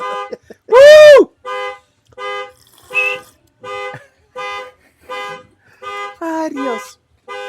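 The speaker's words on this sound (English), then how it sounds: "Your car alarm's going off, Ron." A car alarm blares close and loud, starting with a rising-and-falling whoop and then cycling through a steady run of repeated beeping tone bursts with short gaps between them.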